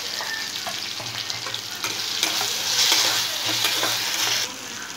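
Tomatoes, mint and coriander sautéing in a pan, a close, steady frying hiss that swells midway, with light stirring clicks and taps throughout.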